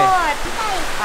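Sea waves washing onto a beach make a continuous, broad rushing wash that stays loud and close throughout, with a voice speaking over the surf.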